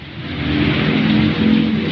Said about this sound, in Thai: นี่ก็ฝนตกวิ่งผ่าฝนเลย